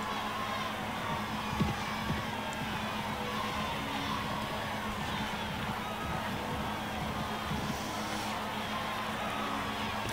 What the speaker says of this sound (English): the crowd is still cheering